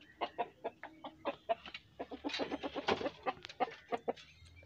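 Hens in a small backyard chicken coop cluck and cackle in a quick, rhythmic series of close, clear clucks that build briefly toward the middle.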